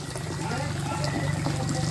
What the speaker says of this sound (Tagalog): Malakas na yung tubig niya.